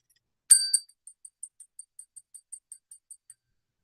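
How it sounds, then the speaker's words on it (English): A small hand bell is shaken, giving two loud bright rings followed by about a dozen quick, evenly spaced, fading tinkles in an otherwise silent room. "I'm gonna ring this bell all day tomorrow."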